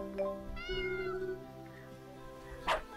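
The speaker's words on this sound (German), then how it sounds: "Katze!" A cat in the video game Worlds Dawn gives a drawn-out tonal meow, followed by a short, sharper second meow near the end, clear and close with no talking.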